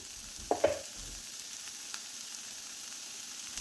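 Spring onion thoran stirred in a pan gives a faint, steady sizzle with two quick scraping strokes near the start, then low, quiet frying to the end.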